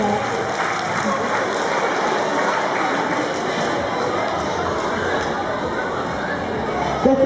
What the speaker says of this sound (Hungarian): Egy nagy tapsot ennek az ügyes fiúnak!